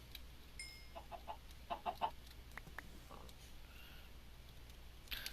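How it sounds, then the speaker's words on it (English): A few short, clipped chicken clucks sound from Minecraft over quiet background noise, with scattered faint clicks and effects. "More chickens and pigs."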